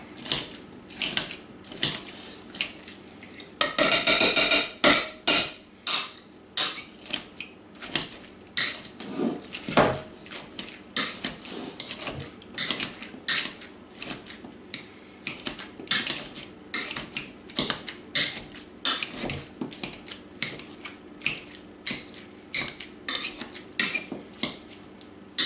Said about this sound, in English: Throw those into a bowl, and we're going to basically want to mash those down.